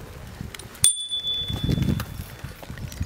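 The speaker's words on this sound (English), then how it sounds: "Ring your bell." A single bright ding of a bicycle bell rings out and lingers briefly, followed by low rustling and handling noises close by.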